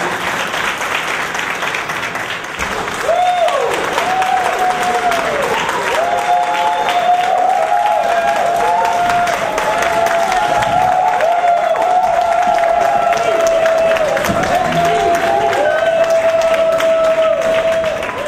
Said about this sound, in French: Applaudissez M. Abel Naki.